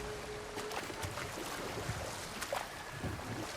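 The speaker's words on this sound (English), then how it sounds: "Waterfalls. We're close." Rushing water from a waterfall in God of War Ragnarök, a steady broadband wash of flowing water with faint ambient details over it, even and unbroken throughout, no talk.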